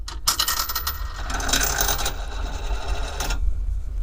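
Mechanical ratcheting and clicking while a nut is fastened onto the washers of a battery relocation kit during a DIY install, busy metallic clatter, close up with no talk.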